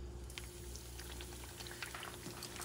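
Thin breaded steak fries over high heat in hot olive oil, a steady close bubbling sizzle with scattered pops and crackles running without a break.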